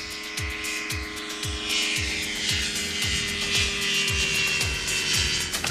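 A light aircraft taking off for a flying challenge, its engine droning loudly and steadily with a rapid rhythmic propeller beat and a slowly rising pitch as it powers up, close and alone.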